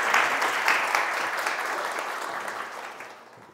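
An audience at a parenting talk concert in Daegu gives a big round of applause, dense steady clapping that slowly fades over a few seconds.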